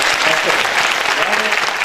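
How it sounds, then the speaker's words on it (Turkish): Loud, dense applause from the audience at a Turkish stage comedy show, with scattered cheers and voices mixed into the steady clapping. "Bir alkış alalım ya?"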